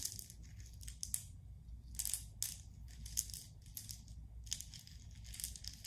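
Rocks knocking and clattering against one another in scattered sharp clicks and taps, some in quick clusters, moderately close over a low steady background rumble.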